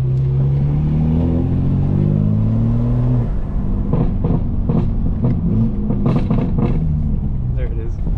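A Stage 2 tuned 2025 BMW M4 Competition xDrive idles and pulls with a low engine drone, then a run of loud, irregular crackling pops and burbles bursts from the exhaust over the second half.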